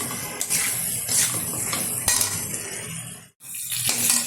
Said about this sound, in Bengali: এখন দিয়ে দেবো পরিমাণ মতো লবণ আবার একটু মিশিয়ে নিচ্ছি